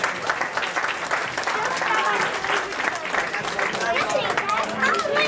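A crowd at a 50th wedding anniversary party applauds steadily, dense clapping filling the room with some chatter mixed in.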